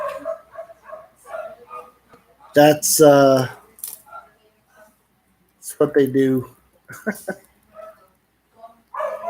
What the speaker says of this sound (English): as you hear, the dogs are getting kind of excited.